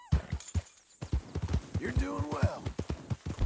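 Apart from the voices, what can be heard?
horse hooves in video game Red Dead Redemption 2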